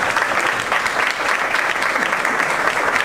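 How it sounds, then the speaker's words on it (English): Steady audience applause at a live presentation, dense and continuous clapping from a crowd holding a constant level throughout without pauses. "let's give another round of applause"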